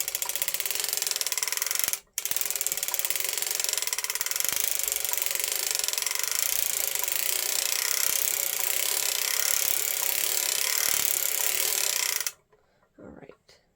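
A circular sock knitting machine, set up for a 48-stitch sock, is cranked steadily with a dense, fast mechanical clatter and ratcheting. The noise runs continuously, breaks off briefly near the start, then stops near the end, leaving faint handling sounds.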